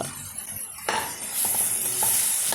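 Mustard seeds, crushed spices and curry leaves hit hot coconut oil in a pan, setting off a sudden, bright sizzle that keeps crackling steadily, close and loud.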